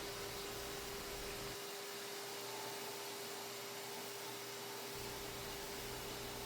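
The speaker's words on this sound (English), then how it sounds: "let that vacuum suck all that dust up" A shop vacuum runs loudly and steadily, sucking up fine dust from grinding a finger choil into a knife with micarta handle scales, its low tone briefly dropping in the middle before returning.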